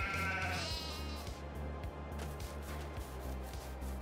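Sheep on a farm in Farming Simulator 22 bleat several times in a row over a steady low engine-like drone, the calls fairly close and loud, with no voices.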